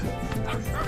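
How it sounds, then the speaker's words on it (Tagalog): A dog barks briefly outdoors in a quiet rural spot near a house under construction, a short bark or two close by, with a voice talking over it. "pero yung aso andyan na"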